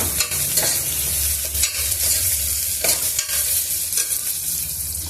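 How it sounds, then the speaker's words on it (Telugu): Curry leaves and mint fry in a pan, producing a continuous sizzle with repeated stirring scrapes of a spoon against the pan, close and fairly loud. "పుదీనా కూడా వేసుకొని ఇది కూడా కొంచెం వేయించుకున్నాము"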